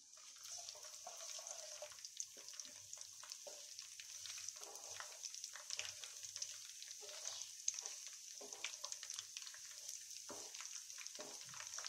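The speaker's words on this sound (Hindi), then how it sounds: "इसको मैं हल्का फ्राई कर लेंगे।" Red chilli, cumin and ajwain fry lightly in oil for mango pickle, giving a soft, constant crackling sizzle that carries on quietly throughout, with no talk.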